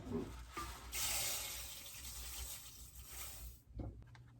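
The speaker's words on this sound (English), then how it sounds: "I'm going to actually add another whole cup of water, and this is 2 cups of lentils." A cup of water poured into a pot holding two cups of lentils while cooking in a camper, a short, close, soft splashing stream that tapers off after a few seconds.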